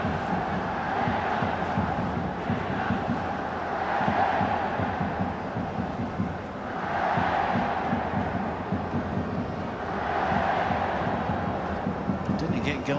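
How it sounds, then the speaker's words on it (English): Stadium crowd at a Real Madrid versus AC Milan football match during a penalty shootout, a continuous dense roar of voices that swells and ebbs in waves, with a commentator talking over it. "the crowd are enjoying the thrill of the penalty shootout"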